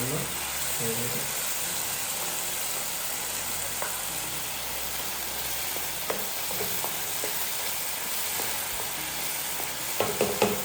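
Tomatoes frying in a pan for homemade Italian pizza sauce, a steady close hiss and sizzle with occasional stirring clinks and scrapes, a voice speaking quietly over the cooking.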